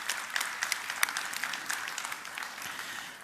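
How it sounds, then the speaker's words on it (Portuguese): Light, scattered applause from a conference audience for a panelist at an agri-food and climate session, moderately distant and fairly brief, with no one speaking over it. "y un aplauso para Kai."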